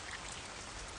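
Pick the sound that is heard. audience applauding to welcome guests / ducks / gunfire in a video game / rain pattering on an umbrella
rain pattering on an umbrella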